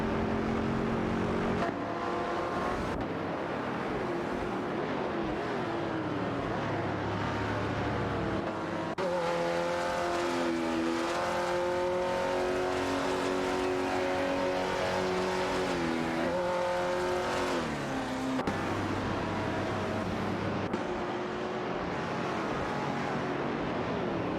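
Racing-game cars, a Chevrolet Corvette C2 Z06 and a Chrysler Valiant Charger among the field, drone and rev continuously with shifting engine pitch and occasional tire squeal, loud and steady throughout with no talk.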